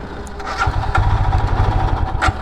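A Royal Enfield Himalayan BS6 motorcycle engine cranking and catching, loud and close, with a rough, throbbing mid-pitched idle that pulses unevenly for a couple of seconds.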